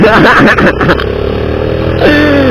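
Sporty motorcycle ridden fast in fourth gear, its engine roaring loud and close as it passes, then pitch sweeping as it revs away.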